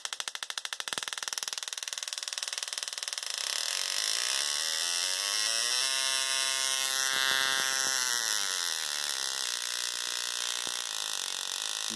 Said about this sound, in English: with 350 volts on that coil, you can see that it's firing across the gap